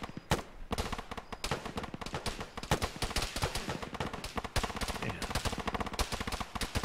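Heavy gunfire in the Arma military video game, with sustained rapid shots and automatic bursts crackling nonstop at varying distances throughout.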